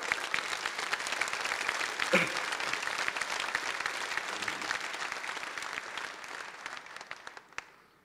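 Sustained applause from a political rally audience fills the room, a dense, steady wash of many hands clapping that gradually thins and fades toward the end, with faint voices mixed in.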